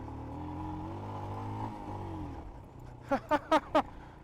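A Royal Enfield Himalayan motorcycle engine hums at a steady idle with falling revs. It then quiets, and four quick, sharp rev blips follow in a close rhythm.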